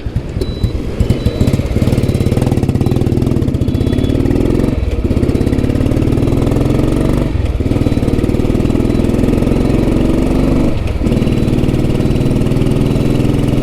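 A Royal Enfield Bullet G2 motorcycle engine idles close by, a loud steady thumping throb with a few brief dips, and no other sounds intrude.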